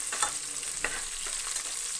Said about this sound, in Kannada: ಸ್ವಲ್ಪ ಈರುಳ್ಳಿ ಎಲ್ಲ ಒಗ್ಗರಣೆಯಲ್ಲಿ ಚೆನ್ನಾಗಿ ಬೇಯೋವರೆಗೂ ಫ್ರೈ ಮಾಡ್ಕೋಬೇಕು